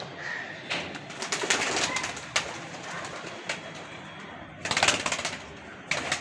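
Pigeons flutter and coo close by, with several bursts of sharp wing-clapping as birds take off and land.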